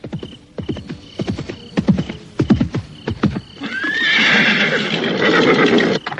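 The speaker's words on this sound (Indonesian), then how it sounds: "Aku mendengar kuda." Radio drama sound effect of a horse: rhythmic clip-clop hoofbeats for several seconds, followed by a loud, close neigh and whinny near the end.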